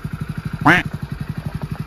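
A motorcycle engine chugs at low speed during a beginner's riding lesson, its rapid, even thumping pulses continuing throughout while a voice briefly calls out over it.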